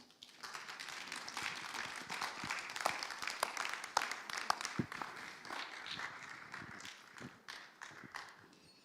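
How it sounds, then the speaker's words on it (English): A small audience applauds after a personal talk about childhood trauma and addiction, giving a brief burst of scattered hand clapping that is fairly close and moderately loud, then thins out toward the end. "I think he deserves a better clap."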